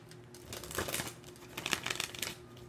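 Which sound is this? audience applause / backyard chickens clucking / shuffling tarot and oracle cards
shuffling tarot and oracle cards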